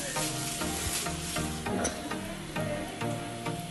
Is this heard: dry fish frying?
yes